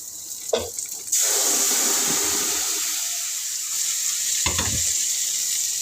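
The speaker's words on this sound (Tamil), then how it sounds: "நல்லா வெங்காயம் வதங்கி வந்துடுச்சு கருக விடாமல் இப்போ ஊற்றிடலாம்" Onions sautéing in a pan, a loud steady sizzle that bursts in after a couple of clattering stir sounds and holds throughout, with another stir near the end.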